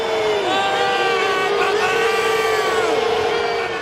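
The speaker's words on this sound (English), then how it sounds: "They're chanting, Bruce." A packed stadium crowd at an American football game chanting "Bruce" for number 78, a loud sustained drawn-out roar of many voices that swells and holds like a long bellow.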